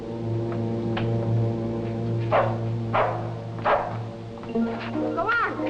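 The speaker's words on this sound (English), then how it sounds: "Sylvia, stray dog, he doesn't belong here" A stray dog barks several times in a loose rhythm, fairly close, over a steady low drone and background noise.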